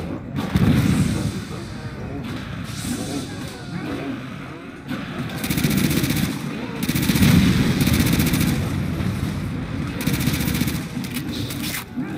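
Grenade blasts and gunfire in Call of Duty: World at War, a dense barrage of explosions and rapid shots running throughout with loud surges, under faint talk.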